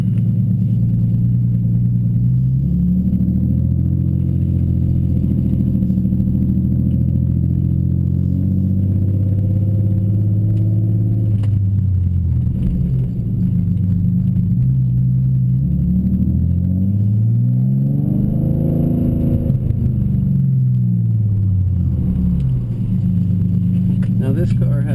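A 750 rwhp HPF Stage 2.75 BMW M3 cruises on a street, its engine droning steadily with gentle rises and dips in revs, heard from inside the car under faint talk.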